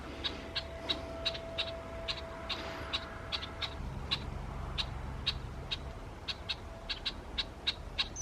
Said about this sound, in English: So it's a red-winged blackbird.